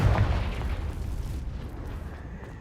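A Confringo blasting spell detonates in the Hogwarts Legacy video game, a loud, deep boom at the start that rolls into a long rumbling decay over a couple of seconds.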